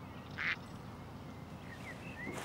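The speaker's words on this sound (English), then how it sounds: "Lovely ducklings and ducklings. Are you still following me?" Ducks quacking with ducklings following, one clear quack standing out early, then soft high peeping calls, moderately close against a quiet outdoor background.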